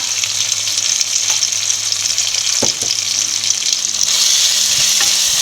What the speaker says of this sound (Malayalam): ഇളക്കി കൊടുത്തുകൊണ്ടിരിക്കുക തക്കാളിയും ചെറിയ ഉള്ളിയും പച്ചമുളകും ഇഞ്ചിയും വെളുത്തുള്ളിയും എല്ലാം നല്ലപോലെ വഴന്നിട്ടുണ്ട്